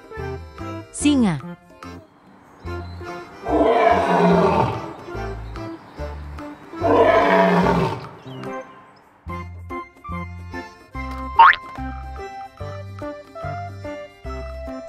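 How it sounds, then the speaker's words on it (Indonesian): A lion roaring in a children's toy or animation sequence, two long rough roars a few seconds apart over a looping, tinkling background tune, with brief chimes and sound effects around them. "Singa."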